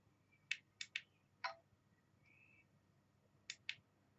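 Faint, short electronic chirps and clicks from a Livescribe Echo smartpen turning off its recording, a few quick sharp bursts in a quiet room.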